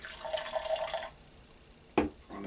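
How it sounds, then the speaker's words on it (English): Beer spilling during an indoor tasting: a short wet splash and trickle, then quiet, then a sharp close drip or clink near the end, faint and brief. "A little spillage there"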